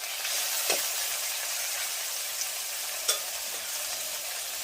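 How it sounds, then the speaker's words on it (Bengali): Prawns tossed into a pan of curry sizzle and fry steadily while a spoon stirs, with two sharp scraping clatters of the utensil against the pan. "এতে আমি চিংড়ি মাছগুলো দিয়ে"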